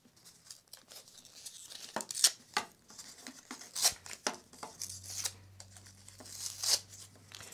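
Protective covering peeled off a wooden ruler, heard as a run of crinkly tearing and crackling rustles, close and fairly quiet, with a few sharper rips and a low hum entering partway through.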